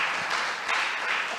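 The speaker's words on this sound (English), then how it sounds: "A round of applause to my panelists." Audience applause for panelists at a health forum, dense steady clapping from a crowd lasting a brief moment.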